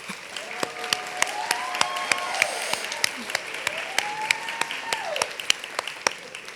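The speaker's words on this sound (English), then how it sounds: "Let's give them a round of applause." Moderate applause from a graduation ceremony audience honoring Middle Grades Education graduates, with scattered sharp individual claps standing out over a softer wash of clapping and faint murmuring voices.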